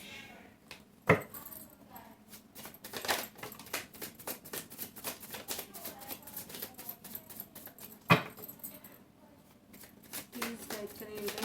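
Tarot cards being shuffled up close produce rapid papery riffles and flicks in bursts, with two sharp slaps as the deck is squared; a voice talks quietly in between.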